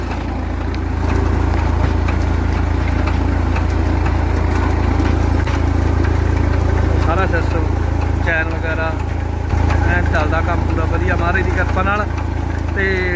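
A Holland 3630 tractor engine drones steadily and low throughout while running a Grimme potato machine, with a voice talking over it for most of the clip.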